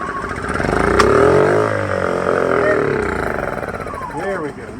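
A generator engine fires up after a dose of starter fluid, catching with a loud, close rumble that swells and wavers in pitch as it revs unevenly before settling. A person talks over the running engine.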